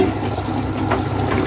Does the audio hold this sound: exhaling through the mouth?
no